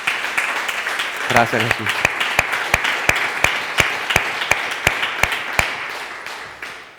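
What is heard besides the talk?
applause for God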